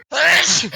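A single sudden, loud sneeze bursts out close to the microphone during a casual conversation about video games and ends within a second.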